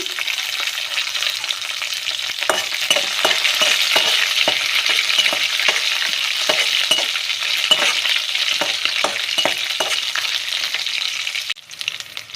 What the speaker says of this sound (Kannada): ಇದೊಂದು ಸ್ವಲ್ಪ ಟೈಮ್ ಫ್ರೈ ಆಗಲಿ